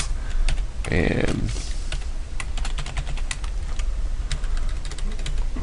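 Computer keyboard typing a short VB script command, a run of close, crisp keystrokes in an irregular rhythm, with a brief spoken word near the start.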